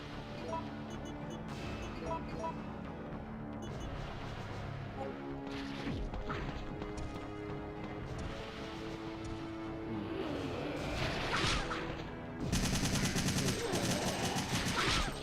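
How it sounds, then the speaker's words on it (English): Gunshots fired at a valve in Resident Evil 3, repeated sharp shots and impacts amid game music and effects, building to a loud, dense burst near the end. "Shoot the valve, shoot the valve, shoot the valve!"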